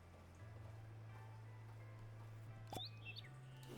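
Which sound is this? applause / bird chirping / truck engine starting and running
bird chirping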